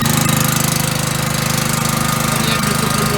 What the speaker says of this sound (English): So what we'll do is get the generator up and running, switch on at the back.